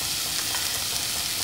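Sausage, leaves and chicken frying in a pan with chili paste are stirred, giving a steady loud hiss and crackling sizzle throughout with faint scraping, no voices.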